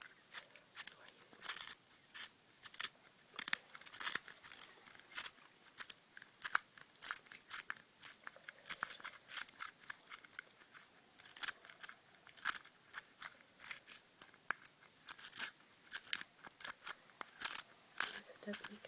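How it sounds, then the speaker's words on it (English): An old-fashioned pencil sharpener grinds a pencil in quiet, close, rhythmic scraping and crunching strokes, repeated steadily and softly throughout. "Old-fashioned pencil sharpener, silly me. So, just get that sharpened for you."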